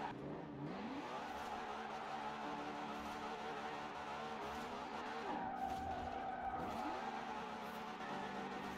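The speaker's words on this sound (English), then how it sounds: "Let's get some first person drifting." A car drifts and skids on snow, its engine revving and droning steadily with sliding tire noise, rising in pitch twice as it accelerates through the slides.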